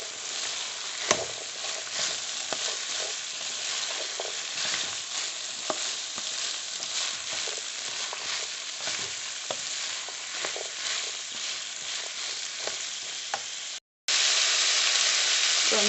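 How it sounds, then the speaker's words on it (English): Carrots are stirred into meat pie filling frying in a pan. A loud, continuous sizzle runs nearly the whole time, with spoon scrapes on top, then a brief dropout near the end before the hiss returns. "Add the carrots. And give it a stir."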